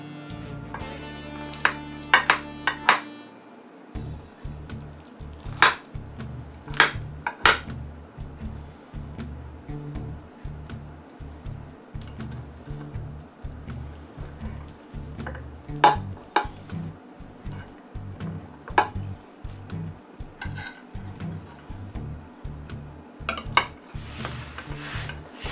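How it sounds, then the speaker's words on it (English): A spatula scrapes taco mac and cheese from a metal pan, giving repeated clinks and scrapes in an uneven rhythm, close and fairly crisp against a quiet background. "I think the way to do this might be with a spatula."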